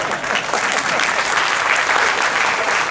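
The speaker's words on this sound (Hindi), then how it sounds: "उन 20 लोगों ने तालियां बजाई" A crowd of about twenty people claps steadily and densely throughout, a loud, continuous wash of applause with no pauses.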